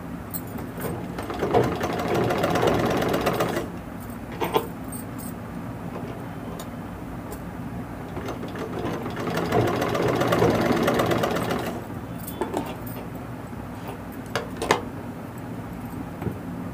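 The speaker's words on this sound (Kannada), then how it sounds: "ನಾವು ಇದಕ್ಕೆ ಎರಡೆರಡು ಹೊಲಿಗೆ ಹಾಕ್ಬಿಡ್ಬೇಕು." A sewing machine stitching an umbrella frock runs in two steady bursts of whirring, with quieter mechanical ticks and pauses between them and no talk.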